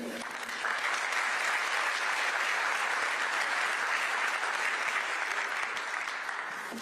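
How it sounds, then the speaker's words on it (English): Sustained applause from the members of the Republican National Committee at a meeting hall, a dense, steady wash of many hands clapping throughout after a brief quieter start. "Please hold your applause until I have announced all of the winners"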